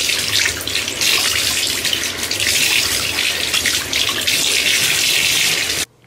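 Cold water runs from a tap in a steady, loud splashing stream into a basin, continuing evenly for several seconds before cutting off abruptly at the very end.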